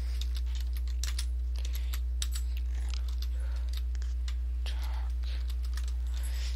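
Rapid, steady keystrokes on a computer keyboard, close and fairly crisp, running throughout over a low constant hum, with no talking.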